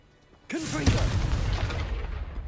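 A Confringo spell explodes in Hogwarts Legacy, a sudden loud burst with a sharp onset that rolls into a sustained rumbling, crackling blast and fades slowly, with a faint voice under it.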